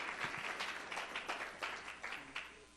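An audience claps at a talk on Africa and the legacy of slavery, scattered hand claps coming in uneven bursts across the room, fairly faint and distant, with faint voices mixed in.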